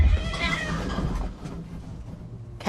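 A cat meows over a low, rumbling background, the cry strongest early and fading, with a brief sharper sound at the very end.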